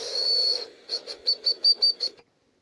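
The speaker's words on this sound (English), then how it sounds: "you blow in here and it whistles, and you have to like cover the holes and stuff like that. So it's a clay flute" Small clay flute blown close up: one long sustained whistle, then a quick series of seven short, breathy piping notes with gaps between them, alone with no talking.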